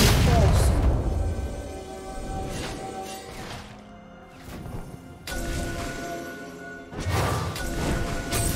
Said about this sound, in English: Turret plate falls.